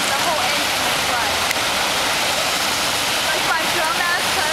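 Floodwater in Fairfax rushes loudly and continuously close by, a steady broadband roar of fast-flowing water.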